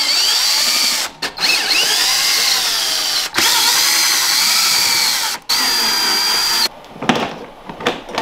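A power drill runs in several long, loud bursts with brief pauses between them, drilling holes for a skid plate on a 2022 Ski-Doo Freeride snowmobile, its motor pitch shifting slightly as it bites in.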